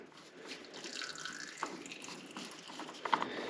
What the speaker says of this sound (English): I got the oil filter loosened up using the pipe wrench again. It should drain a little bit